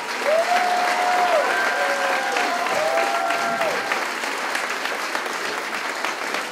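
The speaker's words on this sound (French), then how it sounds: "Je vous demande de les applaudir, Marajade et Jérémy Piché." A gala-evening audience at a wine and cheese event applauds in a dense, sustained burst of clapping that holds steady throughout, with a few voices and whoops mixed in.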